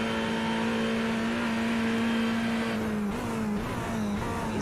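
A race car engine in the iRacing simulation drones at high revs, loud and constant, during a night qualifying session at Bathurst. Near the end the pitch drops and wavers as the car brakes late into a corner.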